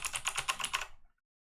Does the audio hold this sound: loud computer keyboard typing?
yes